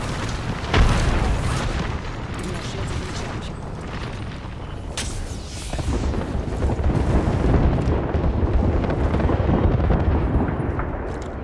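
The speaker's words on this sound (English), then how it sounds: "dropping the bomb" Explosion in the video game Apex Legends: a sustained, loud roaring rumble with a sharp boom near the start and another burst midway, heavy low-end noise filling the whole stretch with no talk.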